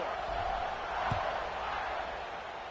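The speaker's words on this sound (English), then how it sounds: "this crowd is buzzing after that last score" A college football stadium crowd buzzing before a kickoff after a score, a steady, dense roar of many voices at moderate distance, with a brief thump partway through.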